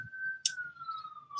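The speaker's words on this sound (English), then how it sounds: "So sorry about the sirens." A steady siren wail outside on a Sunday morning, sliding slowly downward in pitch, heard at a distance, with a couple of short bright bursts of noise cutting in.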